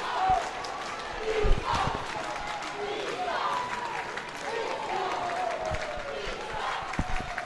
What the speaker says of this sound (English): a big round of applause from this Czech team